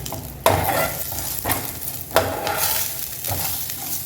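Ingredients for mint chutney sauté in oil, a utensil stirring and scraping the pan in three or four distinct pushes over a loud, close, steady sizzle.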